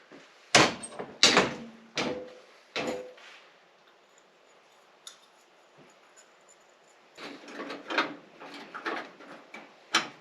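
The door of a 1959 Willys Jeep pickup, which has a worn striker pin, opens and shuts with a series of sharp metallic clunks and rattles. Two loud bangs come early, then a quiet gap, then a cluster of lighter knocks.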